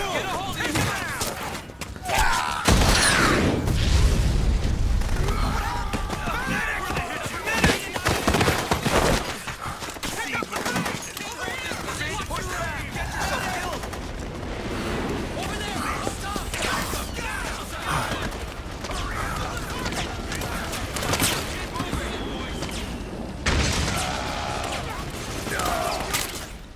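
Dense video game battle in Metal Gear Solid 4: sustained rapid gunfire and fusillades with booming explosions throughout, loud and continuous, with shouted voices mixed into the chaos.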